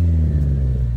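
A 2000 Toyota Soluna engine, freshly tuned, hums close by at a smooth, steady low pitch, a brief even rumble without talking.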